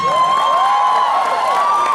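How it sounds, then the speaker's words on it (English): An audience at the Mumbai Film and Comic Con cheers for Rana Daggubati, a loud and continuous wall of shouting and whooping with some applause, with no pause. "can we have a huge round of applause for Mr. Rana Daggubati?"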